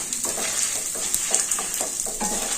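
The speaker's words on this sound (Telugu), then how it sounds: "కందిపప్పు, పొట్టి మిరపకాయ అన్నీ నెయ్యిలో దూరగా వేయించుకోవాలి" Toor dal and small dried chillies frying in ghee, a steady bright sizzle with soft rhythmic scraping of a spoon stirring through the pan, close and continuous.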